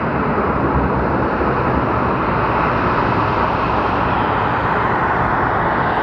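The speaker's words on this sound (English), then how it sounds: "there we have our Southwest plane coming in" A Southwest airliner arrives at Phoenix Sky Harbor Airport, its engines a loud, steady broadband roar that holds constant throughout, with no voices.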